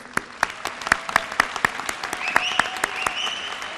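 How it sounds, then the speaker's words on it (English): Applause at a service awards ceremony, with fairly close, crisp individual claps standing out over a steady bed of crowd clapping. Faint voices and a few cheers come through underneath. "Give your 5-year service award winners a round of applause."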